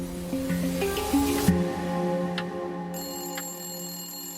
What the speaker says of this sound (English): Not long after, the phone rang.